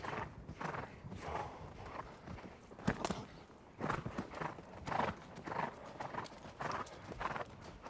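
A horse canters in a show jumping arena, its hoofbeats coming in an even, repeating clip-clop rhythm at moderate distance, with faint background noise throughout.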